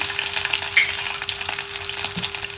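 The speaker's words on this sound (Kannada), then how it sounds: "ಸೊ ಮೊದಲಿಗೆ ನಾನು ಕರಿಬೇವನ್ನು ಹಾಕ್ತಾ ಇದ್ದೀನಿ." Curry leaves and two green chillies sizzling in hot oil, a steady close crackle with scattered pops throughout, loud and alone.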